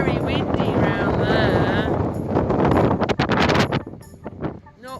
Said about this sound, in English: It's very windy around